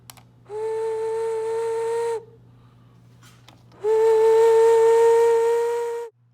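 Handmade clay animal ocarina sounding its lowest note, two clear sustained breathy tones each about two seconds long with a short quiet gap between, close and alone, the second slightly louder.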